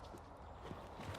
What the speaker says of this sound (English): Balius was a Godolphin horse